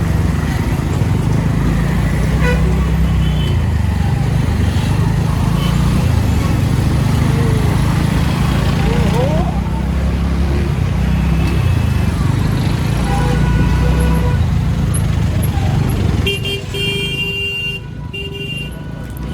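Steady road traffic on a busy highway out of Mumbai toward Kasara ghat, heard from a moving motorbike: continuous loud engine and wind rumble with passing vehicles and occasional horns, easing slightly near the end.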